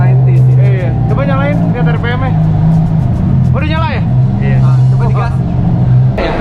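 A 1990s GTI car engine running and being revved, a loud low rumble with rising and falling engine tone, heard close under ongoing conversation between several people.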